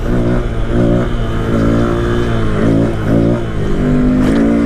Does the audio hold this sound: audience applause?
no